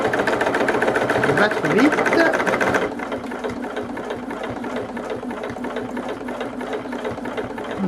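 Sewing machine stitching Japanese patchwork fabric for a small pouch, a fast, steady mechanical whirr for the first three seconds, then quieter machine hum with a person speaking briefly over it.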